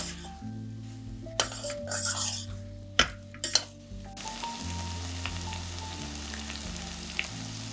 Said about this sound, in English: Mix everything well and cook until the tomatoes become soft.